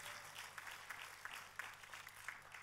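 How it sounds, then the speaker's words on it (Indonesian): A church congregation gives a faint, distant round of applause during a sermon, soft steady clapping with a few sharper claps standing out. "Tepuk tangannya pula yang paling meriah"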